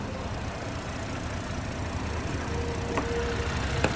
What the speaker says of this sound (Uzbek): Motorda ovozini eshitinglar